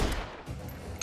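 Gunfire from the zombie game Dead Island 2, a short burst of loud, sharp shots with a noisy crack and echo, one blast at the start and another at the very end.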